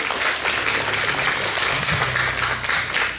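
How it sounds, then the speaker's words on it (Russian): Audience applause at a family intellectual-sports contest, a steady, dense wash of many hands clapping together. It holds close and loud without break for about three seconds. "Слова готовы, похлопаем"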